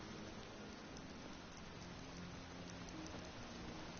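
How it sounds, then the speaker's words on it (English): Steady rain from the weather effects in modded Skyrim, an even, dense hiss of falling drops that holds constant throughout with no breaks and no other sounds. "So it's raining at the moment, as you can very clearly see."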